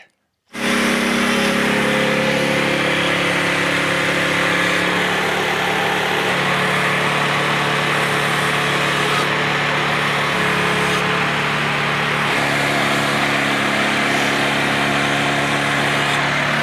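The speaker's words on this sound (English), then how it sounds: "Let's get some sawing out here done at the sawmill." A loud, continuous engine drone with a steady mechanical whine, running unbroken from start to finish after a brief silence.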